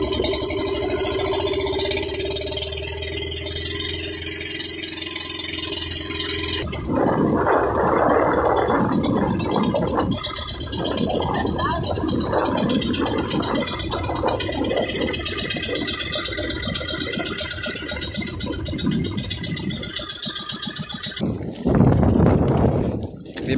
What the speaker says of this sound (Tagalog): Di maganda ra makina.